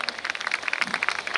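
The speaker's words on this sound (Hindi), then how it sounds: "अग्रिम तालियों से, जोरदार तालियों से स्वागत अभिनंदन।" Audience at a Gangaur festival event applauding to welcome a performer, brief dense clapping throughout.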